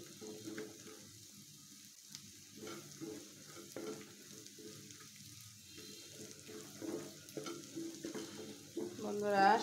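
Food fries in a pan, with a soft continuous sizzle and intermittent stirring scrapes that grow a little louder toward the end; no one speaks.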